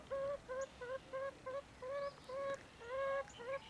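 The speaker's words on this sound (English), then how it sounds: "my chickens are talking to me" Three backyard chickens making soft repeated honking calls in a quick broken rhythm, faint and somewhat distant over a quiet outdoor background.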